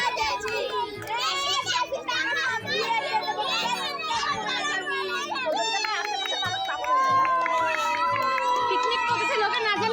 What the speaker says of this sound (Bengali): আর এদিকে দেখো বাচ্চারা কত আনন্দ করছিল।